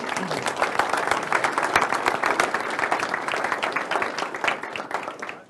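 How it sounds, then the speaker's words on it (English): Audience applause fills a staff all-hands meeting, dense steady clapping from many hands that carries on through the whole stretch, loud and close with a faint voice or two mixed in. "So, give yourselves another big round of applause."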